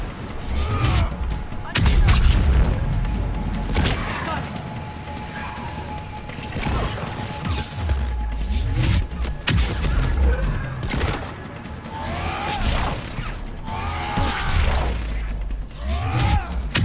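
Sustained combat in the sci-fi shooter Mass Effect 3, with repeated bursts of gunfire, mechanical clatter and crashing impacts in rapid irregular volleys, loud and close, with occasional voices over the battle.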